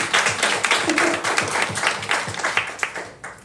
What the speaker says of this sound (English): let's give everyone a round of applause for our panelists today